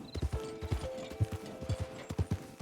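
In a video game, horses trot by with clear clip-clopping hoofbeats in quick irregular clusters, fairly close and moderately loud, with light jingling tack sounds mixed in.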